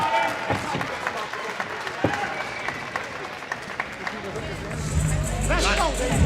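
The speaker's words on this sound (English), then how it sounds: "Crowd starting to get into this one here at Flint." A boxing crowd at a fight in Flint, a broad murmur of cheering and scattered clapping with voices through the arena, building toward the end as a low rumble rises, fairly distant under the general din.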